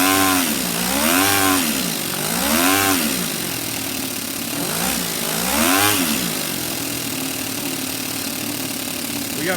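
A small Toyan model engine runs in a sand cruiser model vehicle with a buzzy, chainsaw-like drone that rises and falls in repeated revs before settling into a steady run, close and fairly loud.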